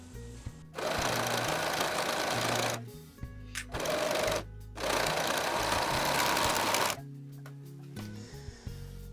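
Serger overlock machine stitching a sweater seam, running in three sustained loud whirring bursts with short pauses between, close and alone, with quiet handling sounds at the end.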